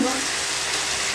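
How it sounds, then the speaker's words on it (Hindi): Minced keema fries in a pan with a steady, bright sizzle, an even crackling hiss that holds for about a second without a break. "तकरीबन आधा मिनट के लिए इसको मैंने फ्राई करना है।"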